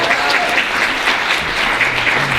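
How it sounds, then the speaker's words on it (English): Loud, steady applause from a conference audience at an International Women's Day event, a dense continuous wash of clapping without talk. "Please give this conference a round of applause."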